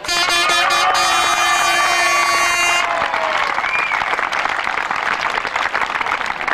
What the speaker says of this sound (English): I'm sure you will have a very big home cheer for Andre Cross